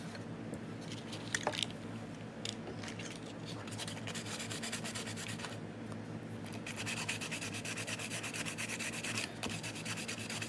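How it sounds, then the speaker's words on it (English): Steady, close-up light sanding of a pen barrel to take the shine off, a continuous gritty rubbing with quick strokes and no voices. "we're just lightly sanding the barrel of our pen, just enough to get the shine off of it"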